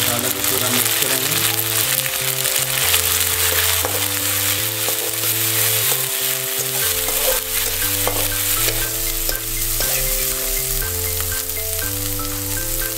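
Masala being stirred in a hot pan for spiny gourd and mushroom sabzi, a loud steady sizzle with continuous scraping and stirring, over a faint tonal background.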